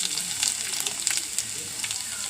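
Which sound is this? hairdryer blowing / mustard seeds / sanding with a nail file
mustard seeds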